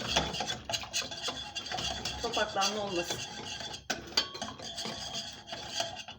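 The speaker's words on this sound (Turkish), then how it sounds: "çırpıcıyla karıştırmaya devam ediyoruz" Hand whisk stirring a thick soup mixture in a pot for a Turkish kellepaça dish, with steady rapid scraping and clinking against the pot, close and fairly loud, and a brief spoken phrase near the end.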